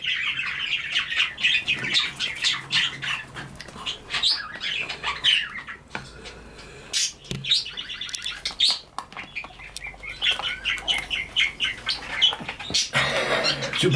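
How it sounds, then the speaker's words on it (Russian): Loud, close squawks and chirps from a pet bird indoors come in dense bursts, with short flutters of wings and a few quieter pauses between calls. "Какая птичка, Федюнчик"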